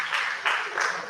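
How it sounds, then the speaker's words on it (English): An audience at a morning agricultural forum on apples in Nigeria breaks into brief, dense applause, steady clapping from many hands swelling in waves. "can we all give ourselves a round of applause?"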